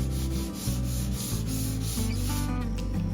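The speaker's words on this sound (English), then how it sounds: "then it's time to do a final sanding on all the joints" The joints of a wooden floating shelf get a final sanding, a close, continuous rough rubbing with a brief pause as the strokes shift. No one speaks.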